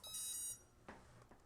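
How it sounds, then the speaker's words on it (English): A short, bright electronic beep from the motor of an OMPHobby M1 micro helicopter sounds once, followed by a couple of faint clicks in a quiet room. "you get the beep from the motor"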